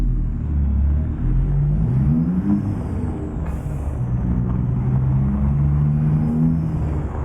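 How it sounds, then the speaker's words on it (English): DD15 diesel truck engine in American Truck Simulator, on a mountain descent in Colorado with the engine brake engaged, giving a loud, deep, continuous rumble with shifting low tones and a brief hiss partway through. "DD15 that you're hearing under the hood there"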